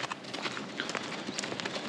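Several horses walk with steady, overlapping hoof clip-clops on hard ground, close by and moderately loud under a faint background hiss; no voices.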